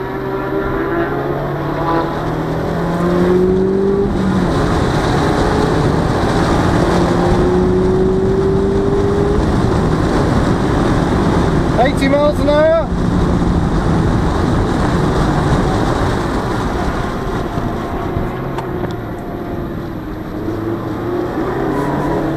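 A Mazda MX5 driven hard on a race track lap, engine droning steadily and loudly with rising revs, brief interruptions marking gear changes, and a short high squeal midway.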